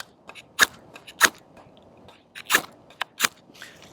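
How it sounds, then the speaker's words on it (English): An Allegheny Knifeworks M40 knife spine scrapes a ferro rod in about five sharp, raspy strikes. The bursts are spaced irregularly and stand out clearly against a quiet outdoor background. "I really prefer just a straight edge to scrape a ferro rod with"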